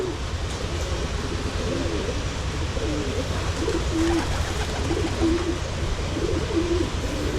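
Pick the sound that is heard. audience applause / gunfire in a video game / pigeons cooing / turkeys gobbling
pigeons cooing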